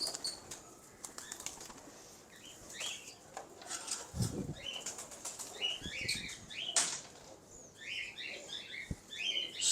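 A domestic pigeon flaps its wings in brief soft bursts of fluttering, fairly quiet and close, with faint chirps and coos from other birds in the background.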